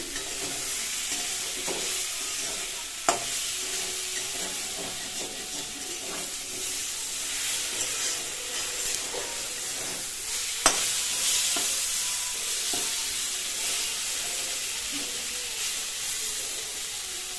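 Spices spluttering and sizzling in hot oil in a pan: a continuous close hiss with occasional sharp pops and crackles and soft stirring scrapes over a long stretch.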